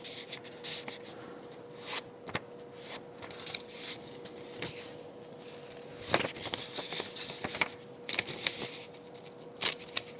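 Sheet of paper being handled and laid down during flax fiber work, with soft rustling, scraping and light taps scattered across the clip, close and fairly quiet, no speech.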